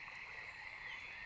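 A cartoon frog croaks in a continuous, fairly faint raspy trill that runs through the whole short moment, with no other sounds.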